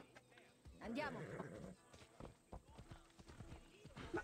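Horse hooves clip-clopping in Assassin's Creed Odyssey, a few soft, uneven hoof strikes mixed with a brief whinny-like burst, fairly quiet, with talk in the clip.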